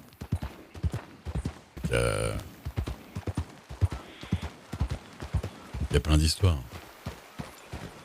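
Horse hooves clip-clop in a steady rhythm in a video game beneath a person talking, with a couple of brief louder bursts along the way.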